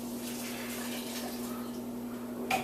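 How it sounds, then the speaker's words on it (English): Steady stream of about four cups of hot water pouring and splashing into a blender, a continuous rushing wash of sound close by, ending with a brief clunk. "we're going to take our water, which I have heated over here"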